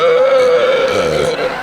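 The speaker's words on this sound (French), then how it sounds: "T'as roté en aspirant de l'air?" A single drawn-out, tonal burp made while breathing air in holds a steady pitch for more than a second before trailing off, loud and close.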